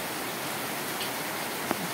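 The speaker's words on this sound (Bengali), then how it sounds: "প্রচণ্ড বৃষ্টি হচ্ছে" Heavy rain pouring down hard and fast, a dense, loud, unbroken hiss of water with one brief tap near the end.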